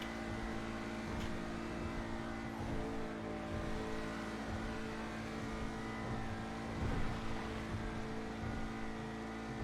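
An Emperor Vectre car in GTA 5 Online drives along with a quiet, steady engine hum that swells now and then, heard faintly and alone without talking.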